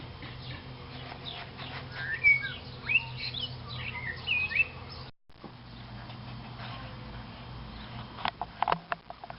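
A blackbird singing outdoors on a late-summer wildflower walk, faint melodic phrases and chirps over a soft breezy background, with a short dropout midway.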